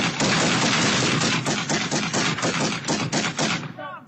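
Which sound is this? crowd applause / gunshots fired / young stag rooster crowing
gunshots fired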